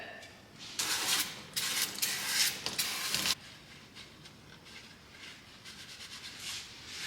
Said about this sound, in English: I'm gonna go in with a touch of brake clean